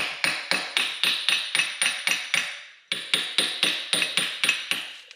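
A hammer taps a nut threaded onto a blown eBay CX Racing turbo from a Honda Accord, in two runs of quick, even, ringing metallic strikes with a brief pause between, close and clear with no talking.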